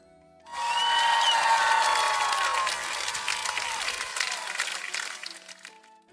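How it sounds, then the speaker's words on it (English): A studio audience bursts into sustained applause that swells quickly, holds steady, then gradually thins out toward the end. "People in the studio, a round of applause for Dr. Shigeaki Hinohara, please."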